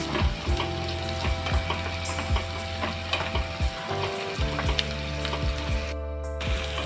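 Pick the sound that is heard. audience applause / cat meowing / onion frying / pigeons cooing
onion frying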